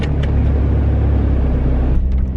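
A Honda Civic Si runs close by with a loud, steady low engine rumble as it sets off to drive, and no one speaks over it.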